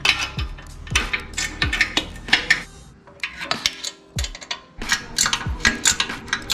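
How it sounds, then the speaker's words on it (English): Exhaust flange nuts are loosened on an Indian Scout motorcycle. Close, bright metallic clicks, ticks and scraping come in quick bursts, with a short quiet gap partway through. "we're gonna start by loosening the flange nuts a little bit"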